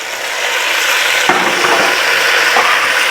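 Browned beef is returned to a hot stew pot, a loud, continuous close sizzle with a couple of soft knocks from a spoon or pot.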